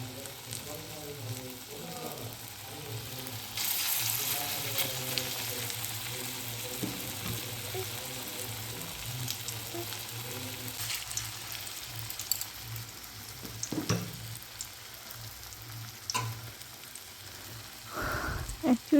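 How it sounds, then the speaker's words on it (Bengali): Raw banana kofta balls frying in oil in a kadai, a soft continuous sizzle that rises when the balls go in, with a few faint clinks of a utensil; no voice. "আমি তেলে ছেড়ে দিচ্ছি।"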